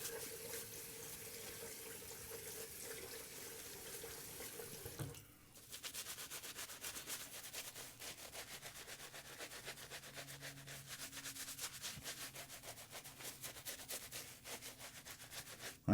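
A Gillette razor makes a second pass over the skin with no added water or soap: a soft, steady rasping scrape that continues close-up, quiet, with a short pause partway through.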